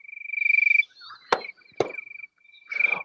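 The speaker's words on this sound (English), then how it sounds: "No clicking, but crickets." A cricket-chirp sound effect plays during a conversation event, a steady high pulsing trill that stops, broken by a couple of sharp clicks, then resumes briefly; no one speaks over it.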